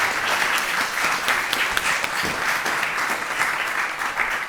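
Audience members at a conference clap together in a steady, full round of applause that stays even throughout, with no speech over it.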